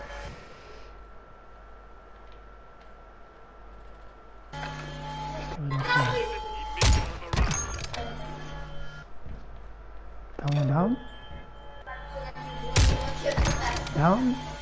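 Two sharp gunshots ring out in a Call of Duty match, each a loud isolated crack seconds apart, amid clattering game effects and background tones while players talk.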